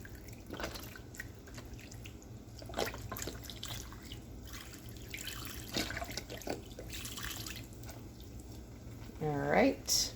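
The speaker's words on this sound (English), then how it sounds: "Now we're going in with the full carton of beef broth." A full carton of beef broth poured into a pot of keto chili, a soft liquid glugging and splashing at low level, with a voice speaking near the end.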